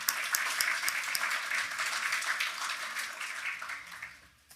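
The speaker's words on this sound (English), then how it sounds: "Please join me in giving a round of applause to Wajid." Applause from an auditorium audience after a lecture, a full sustained burst of many hands clapping that swells early, holds steady, then tapers off toward the end.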